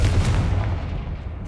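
Confringo spell blast in a wizarding video game, a single heavy booming explosion that starts loud and decays into a rumbling tail over about a second.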